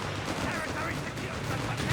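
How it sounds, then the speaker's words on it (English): Artillery fire called in by an officer in Company of Heroes 3 cracks and rumbles faintly in a busy battle mix, with a commentator talking over it. "And artillery called on by the officer nearby."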